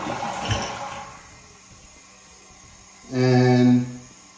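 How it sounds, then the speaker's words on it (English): A household toilet with a slow-filling tank flushes with a rush of water, and after a quieter stretch a loud tonal hum and hiss from the refilling valve rises near the end. "I flush my toilet."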